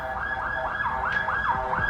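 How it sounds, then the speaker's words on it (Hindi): An ambulance siren wails in a fast, repeating rise-and-fall pattern, loud and close, with traffic noise underneath. "एम्बुलेंस जा रही थी"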